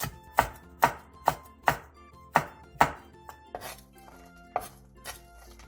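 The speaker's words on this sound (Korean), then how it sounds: "청양고추 3개를 길게 어슷썰게 해주세요" A knife chops Cheongyang chili peppers diagonally on a cutting board, about a dozen sharp, close taps in an uneven rhythm, with a few softer knocks in between and no talking.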